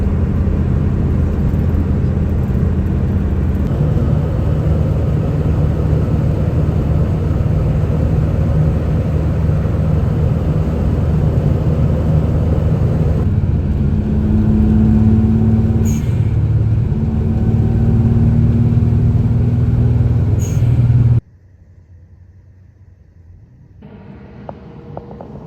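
Suzuki Cappuccino car driving on a road on a cross-country trip, a steady loud engine and road drone with shifting tones, cutting to a much quieter interior at the end.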